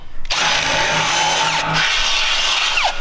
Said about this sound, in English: we're gonna hurry and run a 1/2-inch drill bit through them